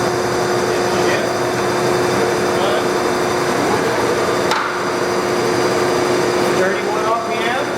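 A Monarch Dyna-Shift heavy duty 48-inch by 108-inch lathe runs in threading mode at low speed with a steady mechanical hum and drone, a sharp clunk near the middle and faint clicks toward the end, close and loud.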